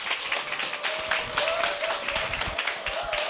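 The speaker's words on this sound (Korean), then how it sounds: "큰 박수 부탁드리겠습니다." An audience at a business seminar claps for an arriving speaker, with brisk, fairly close hand claps continuing through the brief moment and a faint tone running beneath.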